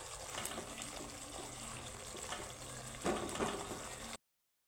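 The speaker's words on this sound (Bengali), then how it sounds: "এখন আমি দিয়ে দিব পরিমাণ মতো জল।" Water poured into a pan of cooked spice masala for a vegetarian curry, a steady rushing pour that swells slightly near the end, then cuts off abruptly.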